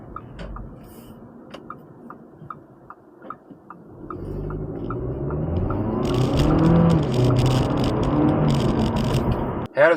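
A 2023 Audi A3 sedan with the 1.5 TFSI engine accelerates in manual mode, its engine note swelling from a low rumble into a loud, sustained rising drone that is heard close up from inside the cabin.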